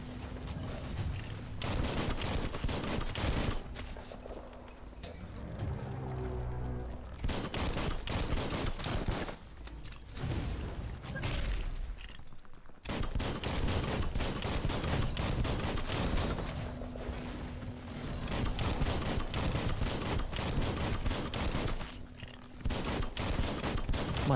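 Dense gunfire in the Biomutant video game, sustained loud bursts and rapid volleys that fill nearly the whole stretch, with only brief lulls between barrages.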